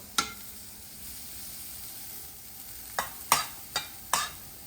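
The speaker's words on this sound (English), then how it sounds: "Putting them on, grill." King oyster mushrooms hiss steadily on a hot grill with a soft sizzle underneath, while a few sharp scraping clacks of utensils punctuate it, close and moderately loud.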